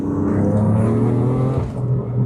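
BMW F80 M3 fitted with a Scorpion exhaust, driven in fourth gear around 34 mph: a loud, close, steady engine drone with a rich low rumble that eases slightly near the end, with no voices.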